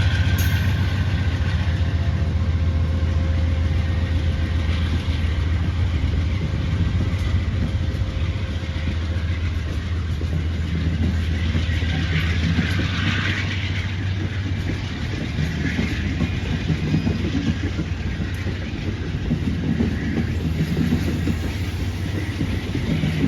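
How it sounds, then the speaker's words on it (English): Westbound Pennsylvanian passenger train pulling out of Lewistown station, a loud, continuous low rumble of diesel engine and rolling cars heard up close throughout, with no speech. "we found the westbound Pennsylvanian pulling out of the station headed for Huntingdon"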